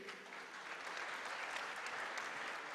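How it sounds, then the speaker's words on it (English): An audience at a squash championship final applauds steadily, a dense, even clapping heard from a distance and sustained throughout. "let's have a big round of applause for the president of the World Squash Federation"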